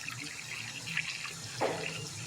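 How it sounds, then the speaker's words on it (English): Distilled water pouring into a 1980 Suzuki motorcycle battery, a soft trickling fill with a brief splashy gurgle near the end, quiet and close. "And so we're going to fill this all the way up to the rim."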